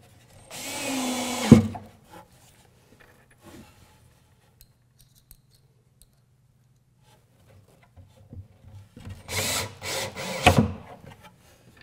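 A power drill drives screws into a clamped wooden arch on a fireplace bookcase, giving two short whirring bursts separated by a long quiet stretch with faint knocks.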